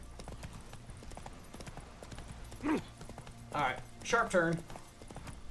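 Roach the horse gallops in Witcher 3 with quick, steady clip-clop hoofbeats that stay moderately near throughout, while someone talks over them in short bursts.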